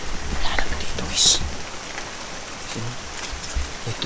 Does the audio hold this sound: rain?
yes